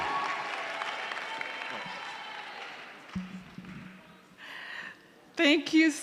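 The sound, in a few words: audience clapping hands at graduation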